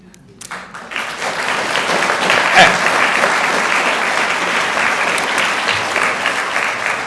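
A large audience at the SciFest national final bursts into applause after a brief pause, a loud, dense roar of clapping that swells within a second and stays full and sustained to the end.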